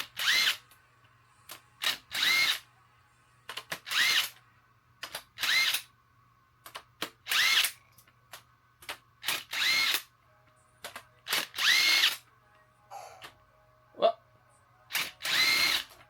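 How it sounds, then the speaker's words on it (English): An impact wrench loosens bolts during a head gasket job on a Nissan Z32 being swapped to a Ford Barra engine, firing in roughly a dozen short loud bursts with brief pauses between. "Switch this over to my impact."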